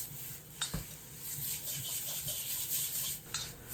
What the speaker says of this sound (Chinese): 继续翻炒均匀。